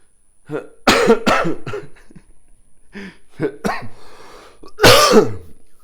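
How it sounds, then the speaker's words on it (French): Someone coughs and clears their throat repeatedly, with harsh, close bursts spread over several seconds, ending in a louder rasping cough. "Ça me fait tousser."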